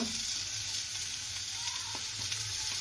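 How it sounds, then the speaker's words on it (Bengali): Tomatoes hit a hot frying pan with a steady, close sizzle and crackle that carries on evenly throughout, with no talking, while a potol and shrimp dish is cooked. "টমেটোগুলো দিয়ে দিল।"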